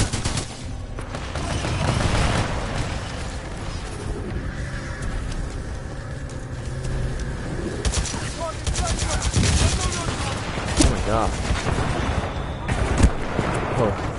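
Rapid automatic gunfire and bursts of shots fill a Titanfall 2 firefight, loud and close, running almost nonstop with sharp cracks and booms over the game's noise, while voices talk at times.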